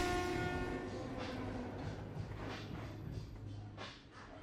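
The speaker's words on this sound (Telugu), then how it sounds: "నెక్స్ట్ స్టేషన్లో ట్రైన్ ఆగలేదు" In an audio drama effect, a passing train sounds a long harmonic horn blast at the start, then its steady rumbling, clattering run continues without slowing.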